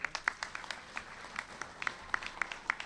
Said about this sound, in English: Can we just applaud him, please?